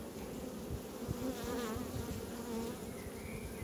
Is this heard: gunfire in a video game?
no